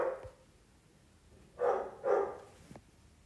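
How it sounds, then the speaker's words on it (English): A pet dog barks indoors somewhere off in the room: a yip at the start, then two fuller barks in quick succession and a short final yelp, moderately distant and not loud. "That's my dog."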